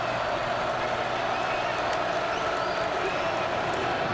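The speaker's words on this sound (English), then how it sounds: "This is the first time we've had a split crowd, so you can actually hear some of the noise." A split crowd of Florida Gators and Georgia Bulldogs fans at a 2020 college football game makes a steady, distant roar with scattered cheers and claps that hold level throughout.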